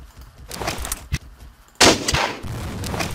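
Gunfire in the first-person shooter Blockade 3D, with a few sharp shots early on, then one loud, close blast near the middle that rings out into a noisy tail.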